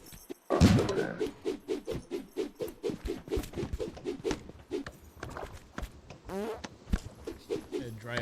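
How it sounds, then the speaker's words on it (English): A series of short dry fart-like bursts in a cluttered room, a loud first blast followed by a rapid irregular string of smaller pops, fairly close with no talk. "dry ass fart"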